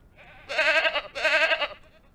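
Two drawn-out goat bleats from the video game Ranch Simulator, each about half a second long, loud and close, separated by a brief pause with no talking.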